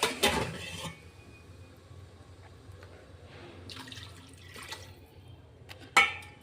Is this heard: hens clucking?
no